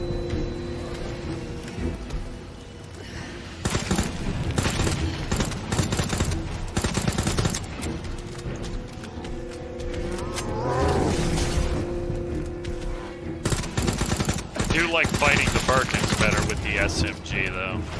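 Gunfire from the Resident Evil 2 Remake, Claire's campaign: repeated bursts and single shots from a handgun, SMG and shotgun ring out loud over a tense game score, with someone talking at points throughout.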